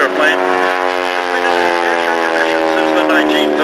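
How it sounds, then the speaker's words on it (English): A Big Showcat biplane with a 450-horsepower R985 radial engine roars steadily and loudly, a thick, rough drone with a dense stack of engine harmonics held at constant power throughout. "The earth-shaking noise and rapping sound you hear come from this airplane"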